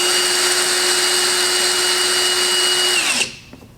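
A Carlyle Tools 60-volt hammer drill runs steadily on low speed with a loud, even motor whine, then winds down and stops near the end.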